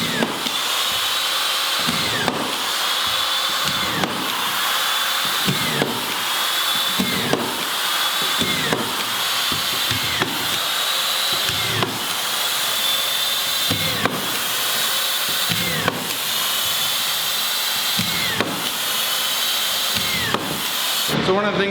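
A power drill fitted with a countersink bit drives screws, whirring in repeated short bursts about every two seconds with sharp high-pitched whines, close and fairly loud.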